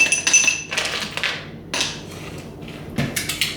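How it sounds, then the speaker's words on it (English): Ice cubes dropped into a glass while making Thai iced tea, giving several bright clinks and knocks in short bursts, close and fairly loud, with pauses between drops. "And then I'm gonna add the ice."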